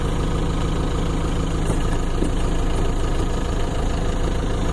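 A diesel engine with a VGT turbo idles at around 780 RPM, a steady, close, low rumbling drone with a faint mechanical chatter and no speech over it.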